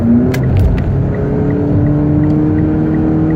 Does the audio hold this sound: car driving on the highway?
yes